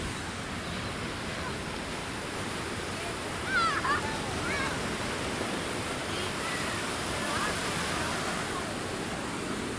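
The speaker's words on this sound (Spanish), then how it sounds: "¿Quieren escuchar el mar? Ahí va, mira." Sea waves breaking on a beach in Cancún, a broad, steady roar of surf with a slight swell midway, with faint voices in the background.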